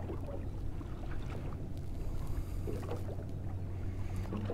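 Water slaps and churns steadily against the hull of a small fishing boat on a lake spot about two metres deep, with a constant low rumble and no voices.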